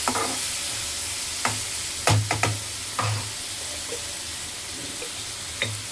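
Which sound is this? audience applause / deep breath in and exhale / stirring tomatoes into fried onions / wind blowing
stirring tomatoes into fried onions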